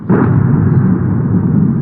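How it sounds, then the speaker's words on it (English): A drone attack on an oil refinery sets off a heavy explosion, a loud, low rumbling boom that rolls on and stays dense for nearly two seconds. "Massive explosions,"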